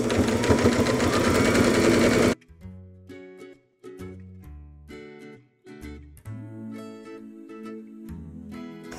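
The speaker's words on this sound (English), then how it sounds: "I'm going to do a few stitches, and then I'm going to back stitch so it doesn't fall apart" A sewing machine runs a few stitches and then back-stitches through fabric for a small rat hammock, with a dense whirring burst at first and then short, uneven motor runs separated by pauses.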